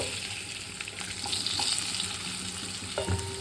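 Potato pieces frying in white cooking oil, a steady close sizzle with a few soft clicks and a tonal scrape near the end, no talk.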